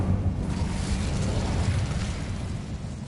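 Incendio fire spell cast in Hogwarts Legacy: a steady, roaring burst of flame with a dense low rumble, loud and close throughout the short moment.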